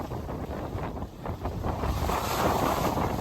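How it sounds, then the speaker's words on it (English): Strong wind of about 20 knots roars across a sailboat running fast under full jib through waves between Cooktown and Lizard Island, a loud steady rush with gusty microphone buffeting and water noise. "It's blowing hard, 20 I guess."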